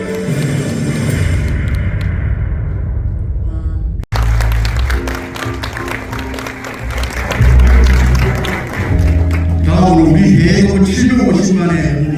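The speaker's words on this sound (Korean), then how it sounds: "큰 박수." An audience at an inauguration celebration event applauds. The clapping builds after a brief pause into sustained, loud applause, mixed with crowd noise and music.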